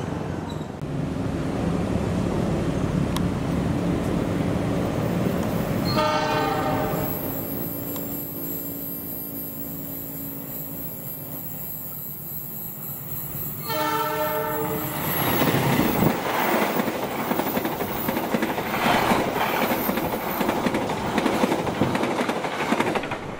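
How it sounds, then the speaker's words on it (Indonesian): Argo Parahyangan 52B passenger train running through Jatinegara station without stopping, a loud sustained rumble of wheels on rail with a drawn-out horn in the middle and clattering carriages continuing to the end. "Barusan lewat kereta api Argo Parahyangan tambahan 52B."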